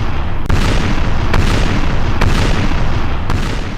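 Naval cannons fire during a sea battle in Napoleon Total War, with four heavy booms spaced about a second apart over a constant loud rumble of battle noise.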